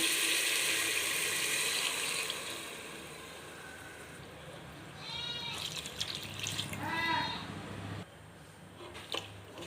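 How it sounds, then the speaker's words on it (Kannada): Three glasses of water are poured into a pot for chicken biryani, a strong splashing pour at first that fades into a quieter background, with a few brief squeaky tones near the end. "ಇದರಲ್ಲಿ 3 ಲೋಟ ನೀರು ಹಾಕ್ತೀನಿ"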